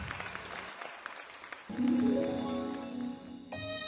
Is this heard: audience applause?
yes